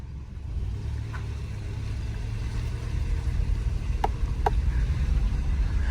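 A Subaru engine runs steadily at a low, smooth hum from inside the car, with a few faint clicks over it.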